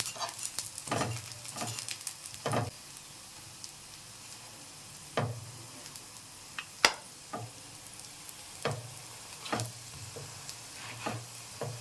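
A cauliflower-stuffed paratha fries slowly in mustard oil, giving a soft, low sizzle broken by occasional sharper scrapes and presses of a spatula, heard close with no talking.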